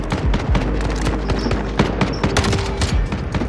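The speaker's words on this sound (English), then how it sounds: "nobody's there and they're shooting at people over here" Dense, loud bursts of automatic gunfire and explosions rattle continuously through a first-person shooter match, with overlapping shots near and far and no talk.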